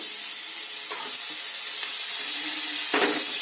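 Chopped capsicum sizzles steadily in a hot frying pan while a utensil scrapes and stirs a few times, close by, without any speech.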